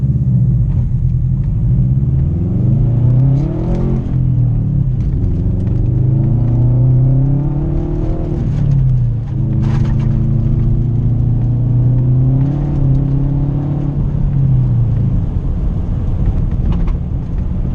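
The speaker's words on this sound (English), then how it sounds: "Like you guys have heard the Subaru exhaust growl." A 2013 Subaru WRX drives through snow, its exhaust giving a deep, continuous growl heard from inside as it rises and falls through several shifts and revs over nearly eighteen seconds.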